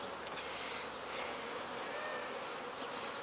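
Honey bees in an opened beehive during an inspection, a dense continuous buzzing hum of many insects, close and steady throughout.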